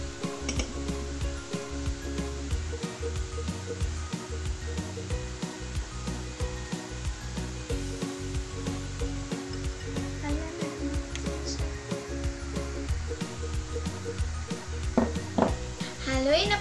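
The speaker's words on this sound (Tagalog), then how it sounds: "Haluin na po natin para hindi magbuo-buo." Milo powder gets stirred into an ice candy mixture, a steady scraping and swishing in a container with clinking utensil taps, continuous over a background hum.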